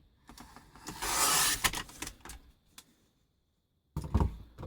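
Crumb cake cardstock is trimmed for a handmade Christmas card, a close, quiet run of rasping paper-cutter strokes and rubs, then a pause before a final short scrape.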